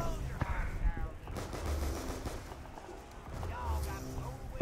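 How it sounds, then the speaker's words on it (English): Repeated pistol shots in Black Ops 2 Zombies on the Buried map, moderately loud pops recurring under constant talk and game noise. "I'm just gonna keep firing my pistol because I got nothing better to do"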